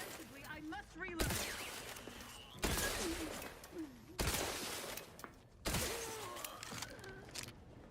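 Video game gunfire comes in four loud bursts of shots separated by short pauses, with a person talking quietly between and under the shooting.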